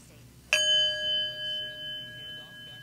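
A single struck bell rings out once with a bright attack, then a long, clean sustained tone that slowly fades, heard alone with no talk.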